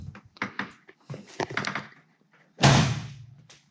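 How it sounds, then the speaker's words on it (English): A Ford Foxbody Mustang car door swings shut with one solid, close thump near the end, after a stretch of handling and shuffling sounds. "Door closes nice."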